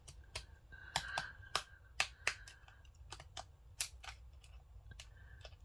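Decorative-edge kid scissors cut paper in a series of sharp, close snips, some quick pairs and some spaced apart, over a quiet room with no speech.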